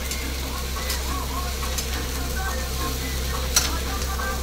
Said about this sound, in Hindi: और इसमें सहजन डाल दिए। अब इसको मिक्स करेंगे।